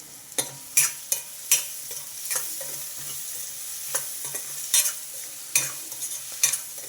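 Sliced onions fry in the oil left from frying bitter gourd, giving a low, steady sizzle. Repeated sharp scraping strokes of a spatula against the pan come at irregular intervals.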